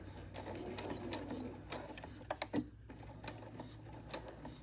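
A home sewing machine stitching a simple hem forward and then in reverse, a quiet rapid mechanical whir with a few louder clunks midway as the direction changes, no speech.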